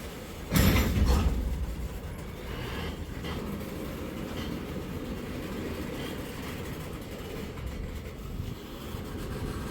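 A train rumbles past with a heavy low roar and a brief loud burst at the start, settling into a steady rolling rumble.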